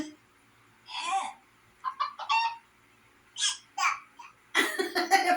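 A young child imitates a hen with a string of short clucking and squawking vocal bursts separated by brief pauses, close and fairly quiet, with babbly voice sounds mixed in.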